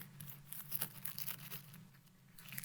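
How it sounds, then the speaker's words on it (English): A plastic bag is rubbed over a print on grass, giving quiet, irregular crinkling and scratchy brushing strokes at close range with no talking. "And then I'm going to rub the plastic bag."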